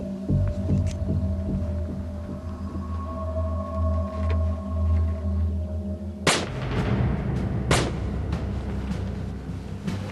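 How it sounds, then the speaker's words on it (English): A low humming drone gives way to two sharp, loud gunshot-like cracks a second apart, followed by rumbling echoes. "I hear gunshots."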